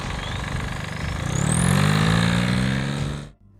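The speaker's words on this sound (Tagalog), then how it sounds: "ang tunog ng diesel ay gawa ng mga panginginig na ito" A diesel engine runs steadily with a rough, throbbing low rumble that swells slightly before cutting off abruptly at the end.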